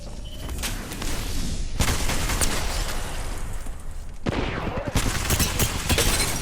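Gunfire in the Apex Legends battle royale, bursts of shots and impacts that come in clusters with short lulls, loud and close, with a voice speaking at moments.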